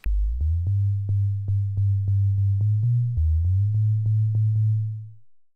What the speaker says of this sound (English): And we can hear we've got a sub there.